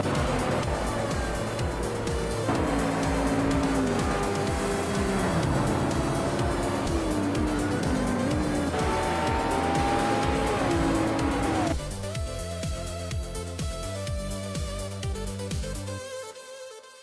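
Race cars in a nonstop racing game roar steadily and close up, with engine pitch rising and falling through gear changes and tire squeals, then a lower, steadier drone near the end.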